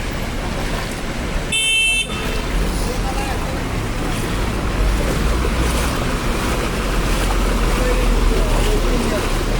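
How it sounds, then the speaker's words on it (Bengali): Floodwater rushing through a flooded market street in Chauddagram, Comilla, a loud, continuous churning roar close by, with people talking over it. "দোকানপাট সব পানি দিয়ে ভাসিয়ে নিয়ে যাচ্ছে।"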